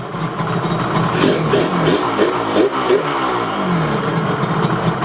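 An RZ350 motorcycle engine idles steadily and close by after a carburetor sync, a low, even rumble with rhythmic pulsing and no voices.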